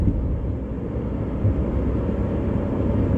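Steady, loud low-pitched rumble of road and wind noise pours through an open car window while driving, a constant broadband roar with no breaks across the whole stretch.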